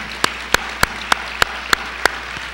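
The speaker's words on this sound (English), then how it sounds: "Let's give them all a round of applause." Seven sharp hand claps ring out at a steady, even pace, crisp and close, with near silence between each clap.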